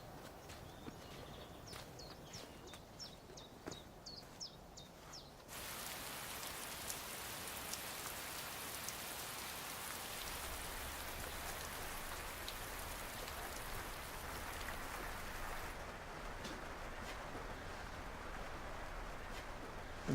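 Steady rain falling outside a potting shed, a dense hiss of drops that grows fuller after a few seconds and continues evenly throughout, with a few faint taps early on and no talk.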